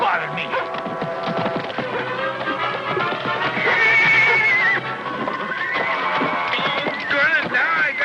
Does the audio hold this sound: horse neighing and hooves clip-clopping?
yes